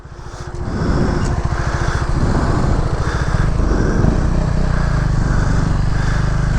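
A motorcycle riding on the road, its engine throbbing steadily after a short rise in the first second, then holding a loud, constant drone with wind rush, heard up close from the rider's position.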